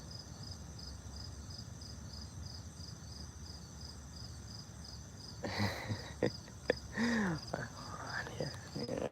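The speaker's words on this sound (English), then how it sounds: "I'm just sitting here listening to the crickets, cicadas." Rapid, steady pulsing chirps of crickets fill the quiet night air, with soft rustling and a few faint voices or clicks joining partway through.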